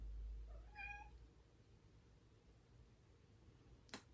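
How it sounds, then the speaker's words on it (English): A single short cat meow, faint and somewhat distant, from a cat scratching at a door, followed by quiet room tone and a brief sharp click near the end. "My cat is scratching at the door and meowing."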